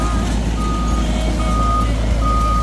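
A truck reverses in Uturoa, Raiatea, its loud steady engine rumble overlaid by evenly spaced electronic reversing beeps repeating close by throughout.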